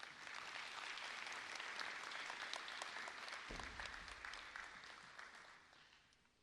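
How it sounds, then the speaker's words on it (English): An audience at a school district Hall of Fame awards ceremony for teachers and retirees gives a full, steady round of applause for an honoree that tapers off toward the end. "Let's give them a round of applause."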